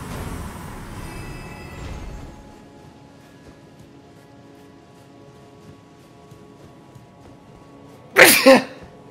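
A single sharp sneeze bursts out loudly near the end, following a quiet stretch of low hum with faint background murmur at the start.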